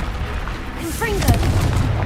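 Blasting spell explosion in the Hogwarts Legacy video game, a deep booming burst in the middle of the clip over a low rumble, followed by sparkling magical effects, with voices talking around it.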